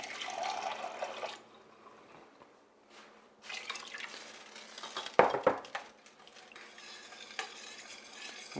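Water poured into a pot for a plant-based tikka masala, a steady splashing pour up front, then a pause, followed by stirring and dripping with a sizzle in the pan, close and moderately loud.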